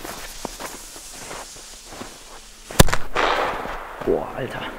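A Roter Korsar firecracker buried in snow goes off with one sharp, loud crack after quiet crunching footsteps, followed by a muffled spray and rumble, then someone reacts.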